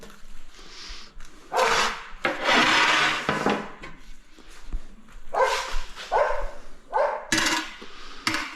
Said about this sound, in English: The doggies are woofing this morning.